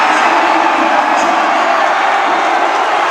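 A packed crowd roars steadily inside Batangas City Coliseum at a basketball game, loud and continuous with cheers and whoops blending into a dense wash of noise.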